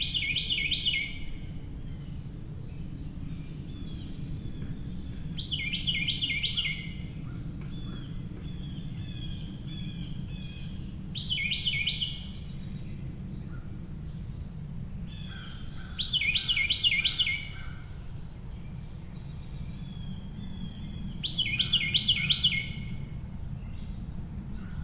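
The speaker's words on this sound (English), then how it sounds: "Number 3. The Carolina wren." Carolina wren song in North America: loud, ringing phrase bursts repeat about every five seconds, each a rapid series of bright whistled notes, heard over a steady low background rumble.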